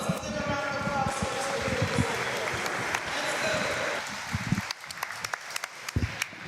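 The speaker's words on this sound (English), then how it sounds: "So let's give them a round of applause for" A crowd at a high school boys' basketball game applauds the referees, a broad roar of clapping that thins out near the end as a ball bounces and a voice speaks over it.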